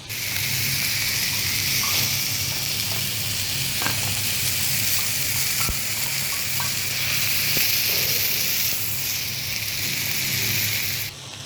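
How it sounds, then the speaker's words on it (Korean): Steady, loud sizzling of sundae (Korean blood sausage) on bean sprouts frying on a hot iron plate, a continuous crackling hiss with occasional pops, no voices. "숙주 깔리고 철판에 이렇게 지글지글 나오니까 와, 대박인데요, 소리가"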